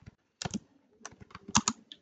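Typing on a computer keyboard while writing in Google Docs: two short bursts of close, crisp key clicks separated by a brief pause, with no talking.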